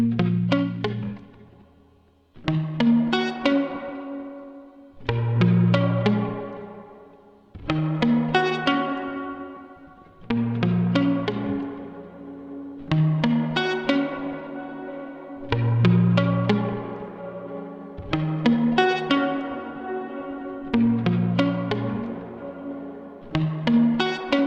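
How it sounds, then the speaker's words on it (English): Synth or instrument chords processed with tempo-synced pre-delay reverb layers in a music mix, repeating rhythmic bursts with washy tails that swell and fade about every two and a half seconds. "now let's mix these reverb layers in"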